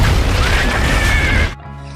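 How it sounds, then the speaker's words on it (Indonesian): A house explodes and burns in a film scene: a loud, dense, roaring blast with crashing debris for about a second and a half, then cutting abruptly to a quieter low tonal drone. "terjadi ledakan yang menghancurkan dan membakar rumah mereka"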